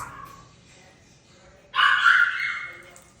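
Dogs greeting their returning owner, a faint whine at first, then a sudden loud high-pitched yelping whimper that fades gradually, close by.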